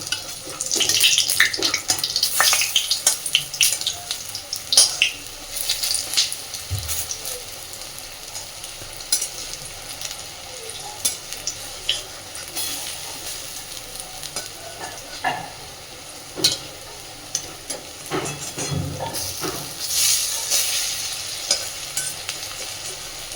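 Masoor dal fritters (lentil boras) frying in hot oil, a steady crackling sizzle with scattered pops and occasional clinks of a utensil turning them, fairly close and continuous with no talking.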